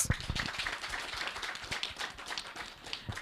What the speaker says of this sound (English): I want everyone to make a great clap for yourself